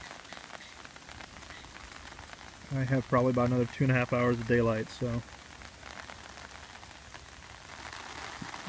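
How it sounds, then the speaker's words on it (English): Steady rain hisses over a hammock camp in Florida woods, a constant soft wash of drops throughout, while a person speaks briefly in the middle. "It is raining."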